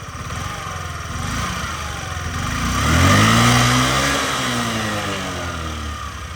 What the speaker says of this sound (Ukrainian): Ідеальна робота двигуна, ніяких питань абсолютно.